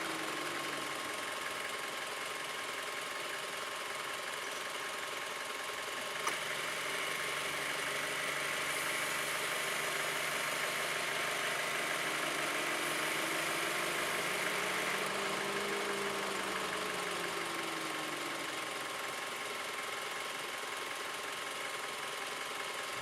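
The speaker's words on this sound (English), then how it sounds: "I don't know if you're going to be able to hear the compressor kicking on and off there." A 2004-2009 Mazda 3 engine idles steadily while the A/C system is being recharged, a continuous mid-pitched hum with faint shifting whines as the compressor cycles on and off.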